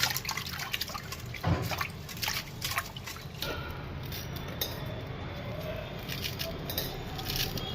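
Mint and coriander leaves rinsed in water for a chutney, a steady wet trickle and dripping with soft splashes running throughout, fairly close and continuous.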